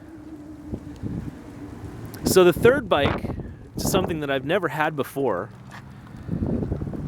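Wind gusting outdoors while someone shows off vintage bicycles, a steady rushing buffet against the microphone beneath someone talking.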